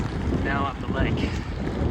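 Strong wind over a lake on the Rimutaka Cycle Trail near Wellington, New Zealand, buffets the microphone in a constant roar, with gusty low-end rumble and a faint whistling tone sweeping through.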